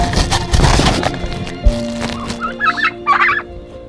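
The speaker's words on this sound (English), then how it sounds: "And then we've got our 3 turkeys in here" Several turkeys gobble in bursts, loud and close, with rustling and a thump in the background; the gobbling grows more prominent toward the end.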